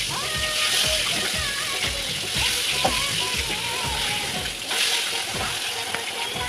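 Hilsa fish frying in hot oil, a steady close sizzle and crackle with occasional splatter throughout, while children's voices chatter faintly in the background.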